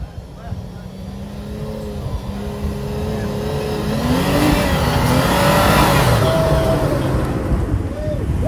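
Mitsubishi Pajero engine revving at an off-road park, a loud sustained roar that rises in pitch and intensity midway, with people shouting faintly in the background.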